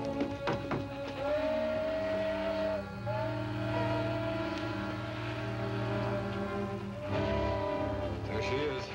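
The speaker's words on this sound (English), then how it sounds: "It's a train, all right." Steam train in an old Aztec mummy film passing with its steam whistle blowing, a loud sustained tonal blast that wavers and returns, with heavy rumbling underneath.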